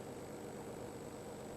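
A steady, low motorcycle engine idle hums on without change, a continuous rumbling drone with a faint high whine on top, close by and with no voices.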